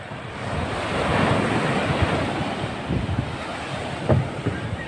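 Big ocean waves crashing and rushing along a shore where boats have been pulled up, a loud continuous surf roar mixed with heavy wind buffeting the microphone.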